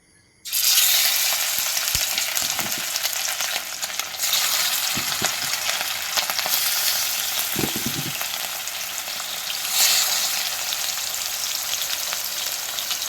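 Fish pieces frying in a pan of hot oil for a home-cooked fish curry, a steady loud sizzle running throughout with a few soft knocks as the pieces are turned.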